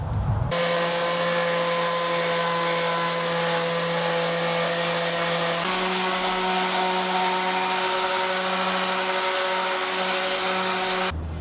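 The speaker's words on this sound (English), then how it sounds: "So to sand the body down, I'm just going to start out with my random orbit sander." A random orbit sander with 120 grit paper works over the body of a Fender Squier Showmaster guitar, giving a loud, steady motor whine that shifts pitch slightly partway through, with no talk.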